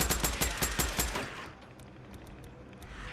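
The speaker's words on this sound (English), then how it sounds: "We'll start with some gunfire, and I'll eventually throw a grenade over there" Rapid automatic gunfire in the video game Days Gone, a burst of about ten loud, evenly spaced shots followed by fading echoes and scattered quieter clicks.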